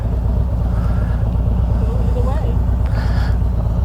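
An Indian Chieftain motorcycle engine runs steadily and loudly on a ride, a constant low rumble with wind buffeting the microphone and a rider's voice over it.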